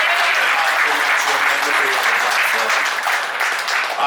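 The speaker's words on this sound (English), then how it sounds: "Can I get a round of applause, please?" Loud, dense applause from a crowd, sustained steadily throughout with no pauses.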